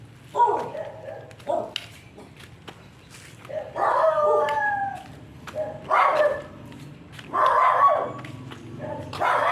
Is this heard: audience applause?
no